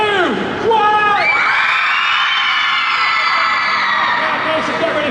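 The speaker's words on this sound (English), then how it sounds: "I want to hear how loud you guys are going to scream" A festival audience screams and cheers at full volume in a sustained, shrill roar of mixed voices that swells at the start and holds steady.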